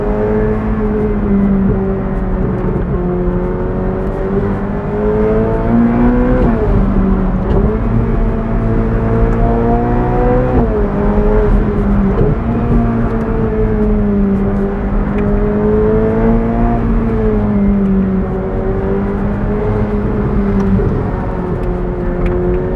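Ferrari 488 Pista V8 engine under hard acceleration, loud and close from inside the car, revs climbing in rising sweeps broken by quick gear changes, with no talk.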